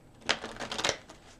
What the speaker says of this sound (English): I'm going to shuffle them 3 more times